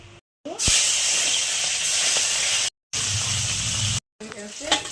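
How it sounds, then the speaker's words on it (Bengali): Khoira fish frying in hot oil in a pan: a loud, close, continuous hiss and sizzle, cut by brief moments of silence. "তুলে নিচ্ছি, আরো আছে ভেজে নেবো অল্প অল্প করে।"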